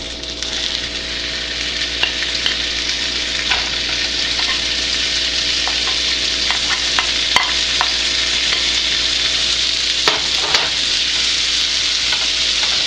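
Potatoes fry in melted butter in a pan, giving a steady close sizzle with scattered small pops and crackles throughout and no talking.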